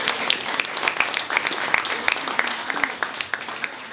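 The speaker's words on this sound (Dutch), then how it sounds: "Dus ook een heel groot applaus voor hen." An audience at a rebetika benefit concert in Paradiso, Amsterdam, gives a round of applause, steady crisp clapping throughout with individual claps standing out near the microphone.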